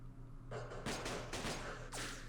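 Sniper gunfire in the Vietnam War strategy game Campaign Series Vietnam: four faint, sharp cracks spaced irregularly over a low steady hum, sounding distant and quiet.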